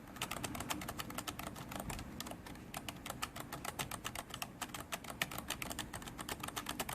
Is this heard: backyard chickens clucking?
no